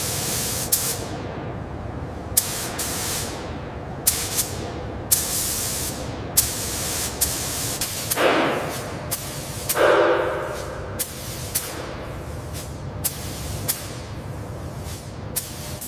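A spray gun lays a coat of paint on the fuselage of a Lockheed L-1049H Super Constellation airliner. Short hissing bursts repeat at a steady pace, with two longer hisses near the middle, all fairly close and clear.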